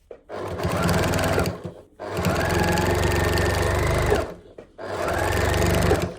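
Sewing machine stitching a seam in toweling fabric for unpaper towels, three loud, steady runs of rapid mechanical whirring and needle clatter separated by brief pauses, with a small back stitch.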